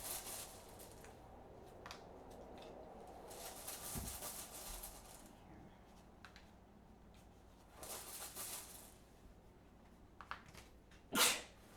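A single loud sneeze near the end of a quiet stretch at a board game table, preceded by soft rustling, clicks and faint background noise.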